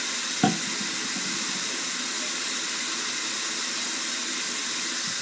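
Cold tap water runs steadily into a sink as hands are rinsed, a constant close hiss and splash that holds evenly through the whole stretch after a brief knock at the start.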